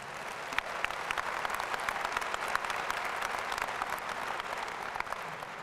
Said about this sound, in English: she got a round of applause